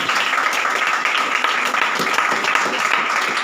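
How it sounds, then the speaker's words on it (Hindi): A church congregation applauds loudly during a New Year sermon, a dense continuous wash of clapping at full strength for the whole stretch, no speech over it. "खुदा के जलाल के लिए जोरदार ताली।"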